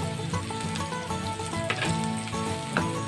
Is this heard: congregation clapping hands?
no